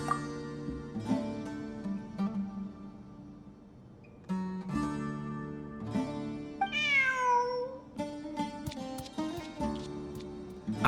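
A cat meowing inside the video game Genshin Impact, several soft meows and mews rising and falling over a quiet, layered game music background, fairly faint overall.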